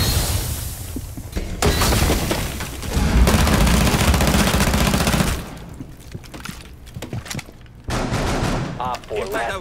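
Video game gunfire aimed at a wall during a multiplayer round, with bursts of loud rapid shots and booms rising and falling over several seconds, and brief voices and game noise in the quieter gaps.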